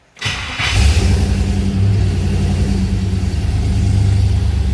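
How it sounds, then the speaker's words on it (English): A 1971 Chevrolet K5 Blazer's Vortec engine cranks and catches after a brief silence, then settles into a loud, steady idle with a deep rumble. "All right, starting her up."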